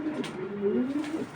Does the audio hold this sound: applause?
no